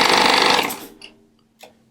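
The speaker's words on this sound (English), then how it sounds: "I'm going to press the button and turn on the motor." A Baby Lock Triumph serger runs its motor in a loud steady whir for nearly a second while auto-threading the needle, then stops, followed by two brief faint mechanical clicks in a quiet room.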